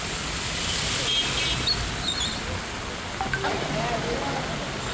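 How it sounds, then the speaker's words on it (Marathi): A dense, steady wash of heavy rain over a flooded city road fills the air, with scattered faint noises from the surroundings mixed in. "पाऊसही जोरदार सुरू आहे"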